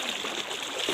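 Fast-flowing flood water rushes past a riverbank in a steady, close, hissing wash with no pauses and no voices.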